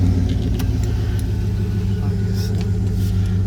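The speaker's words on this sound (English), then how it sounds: "Has remote start. Let's see. Show you that it works. Sounds beautiful too." Steady idle of a 2013 Chevrolet Avalanche LT 1500 engine running after a remote start, a loud continuous low rumble heard up close with no change in pace.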